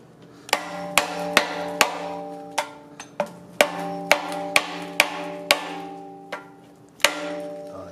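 Sharp metallic hammer blows drive a BLOX spherical RTA bushing into a Honda CRX Si arm, about a dozen ringing strikes at an irregular pace, close and clear.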